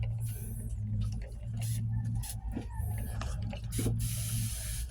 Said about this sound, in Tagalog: Sprayan lang natin mga kapatid para mabasa siya.